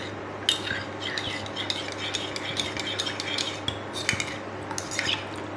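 A spoon stirs a cornflour and water mixture in a small bowl, clinking and scraping against the sides. The light clinks repeat in an uneven rhythm over a soft steady hum in a quiet kitchen.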